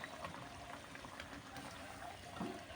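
Pork simmering in water in a pot for a Thai water spinach curry with pla tepo, giving a steady close bubbling and low churning with a few louder plops near the end.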